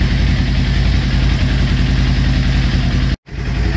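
Kawasaki Ninja 400 track bike engine running steadily in gear at around 4,000 RPM, a loud, continuous close-up drone that cuts out abruptly for a split second near the end before resuming.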